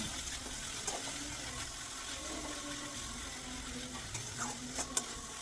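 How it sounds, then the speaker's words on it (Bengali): Spice masala being fried down in a pan for a spicy chicken stomach kosha, a continuous soft sizzle with occasional stirring scrapes and light clinks, moderately close, no voices. "মশলাটা আমি ভালো করে কষিয়ে নিচ্ছিলাম যাতে মশলার কাঁচা গন্ধটা না থাকে"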